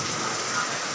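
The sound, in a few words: very heavy rain during work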